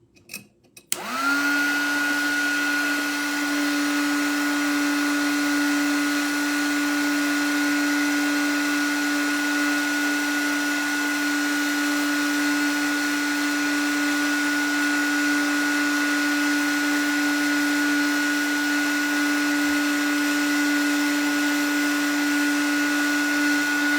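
A handheld heat tool clicks on and then blows steadily for a long stretch while heating metal for powder coating, a loud, even hot-air roar with a clear constant whine and no talking.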